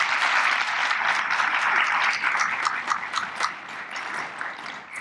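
A school auditorium audience applauds after a concert band performance at a state of the schools address, a full, steady burst of many hands clapping that thins slightly toward the end.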